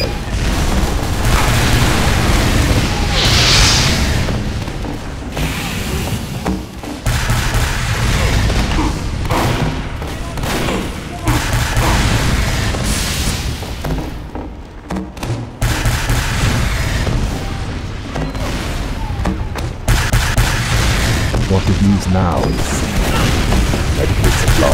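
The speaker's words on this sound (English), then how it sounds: "Walk right into the explosion!" Heavy explosions and booming blasts from a Team Fortress 2 match, dense and loud throughout with rumbling bursts, gunfire-like cracks and mechanical clatter layered under occasional voices.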